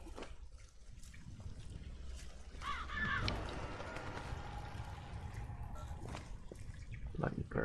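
Crows caw in the London setting of the Zombi video game, a few harsh calls near the middle set against a steady background of trickling water and ambient game sound.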